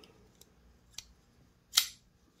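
A Falcon Knives Boondock Saints-style dagger gives a few sharp, faint metallic clicks and scrapes, then one louder ringing swipe, heard close and alone.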